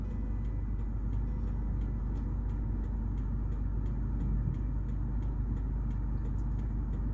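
A car driving along Trafalgar Road in Kingston, Jamaica, heard from inside as a constant low engine and road rumble with faint regular ticking, steady and unbroken, no voices.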